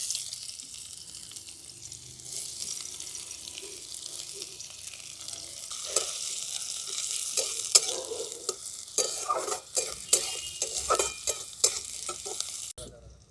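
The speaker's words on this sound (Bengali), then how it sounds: "ফোড়নটা থেকে যখন একটা ভালো গন্ধ বেরোবে তখন আমি দিয়ে দিচ্ছি কেটে রাখা পেঁয়াজ" Chopped onions fry with whole spices, including mace and black cardamom, in a pan. A steady sizzle rises as they go in, with scraping stirs and clinks that grow busier toward the end. No one talks.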